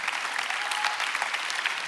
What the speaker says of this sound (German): Komm, wir geben doch am Dr. Johannes Harter einen Applaus.